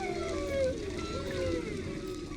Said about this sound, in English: Multiple animals vocalizing on top of one another in a noisy environment.